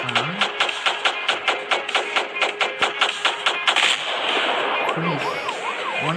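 Gunshots in the Rope Hero Vice Town mobile game, a steady series of evenly spaced sharp shots followed by a rushing, whooshing stretch with faint game tones.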